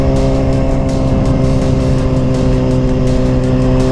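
A 600cc motorcycle engine runs loud and close, a steady rumbling drone with slight fluctuations in its revs throughout.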